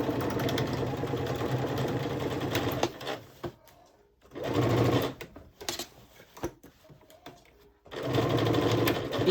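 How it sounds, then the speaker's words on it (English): A sewing machine stitches all the way around a beginner's denim tote bag, running steadily in three loud bursts separated by short pauses and quieter gaps. "So I'm going to go ahead and sew all the way around."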